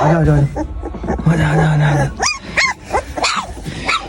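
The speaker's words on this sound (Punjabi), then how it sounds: "ਇੱਕ ਇੱਕ ਕਰਕੇ ਭੌਂਕਦੇ ਆ" Several dogs yip and bark one after another in short, sharp bursts, close by, with a person's voice or whining tones mixed in early on.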